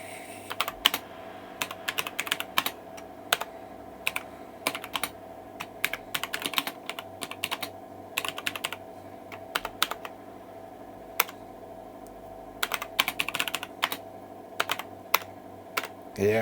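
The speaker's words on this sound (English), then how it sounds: "Well, the keyboard doesn't feel that bad. It's the original keyboard." Keys clack in quick, uneven bursts on the original keyboard of a Commodore PC 10-II computer, with short pauses between runs and a steady low hum beneath.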